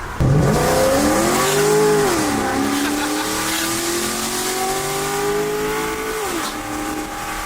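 A car engine, said to sound like a Corvette Z06, revs hard and accelerates with three people aboard, a loud sustained roar whose pitch climbs, dips at a gear change, then holds and rises again before easing off.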